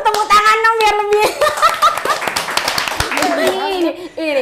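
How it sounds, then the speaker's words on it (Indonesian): Studio audience clapping on an Indonesian talk show, sharp scattered claps mixed with lively voices, laughter and giggles, the talk running over and between the bursts. "Aduh, tepuk tangan dong biar lebih."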